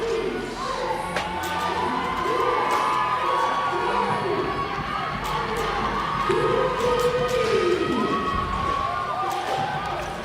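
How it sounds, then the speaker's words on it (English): A large crowd at a fitness competition cheers and shouts wildly, sustained roaring with whoops and rising yells over a busy arena background, with voices talking loosely mixed in. "Oh man, the crowd goes wild and you love to hear it."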